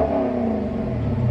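A Dodge Challenger Scat Pack V8 engine rumbles and revs steadily, close and loud, with a deep low growl and no talking over it.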